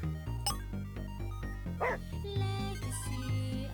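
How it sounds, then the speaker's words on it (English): Cleo the dog barking in the video game Murder is Game Over, short yips and bow-wow barks layered over loud game music with a voice talking faintly. "Cleo's barking scares the enemy!"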